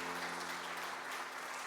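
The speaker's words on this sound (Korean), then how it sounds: "큰 박수로 부탁드립니다." A church congregation gives a big round of applause for a newly appointed small-group leader at a Korean Sunday service. The clapping is dense and continuous over faint sustained keyboard tones.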